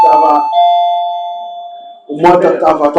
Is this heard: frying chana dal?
no